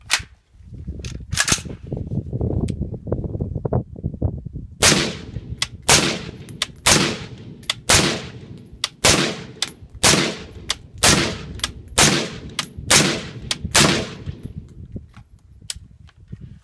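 A suppressed rifle with a reduced gas port fired in a reliability test, giving a string of a dozen or so sharp, muffled reports at a steady pace, preceded by a few seconds of low handling rumble.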